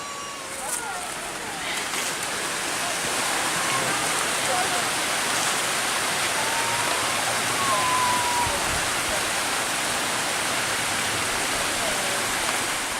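Helen Hunt Falls, a waterfall, roars as a loud, dense, steady wash of falling water that stays constant throughout, with a faint voice near the start.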